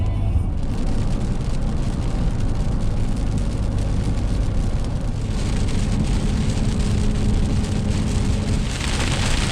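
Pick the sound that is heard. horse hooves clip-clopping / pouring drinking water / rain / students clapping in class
rain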